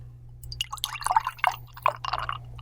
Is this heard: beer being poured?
yes